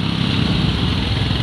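A motorcycle engine drones steadily while riding off-road, a rough continuous rumble close by with no break.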